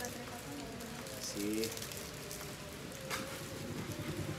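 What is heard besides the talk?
heavy rain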